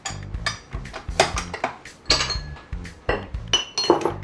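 Gluten-free flour, sugar and salt mixed by hand in a bowl, with repeated close clinks and scrapes of utensil against the bowl in an irregular rhythm, with no talking.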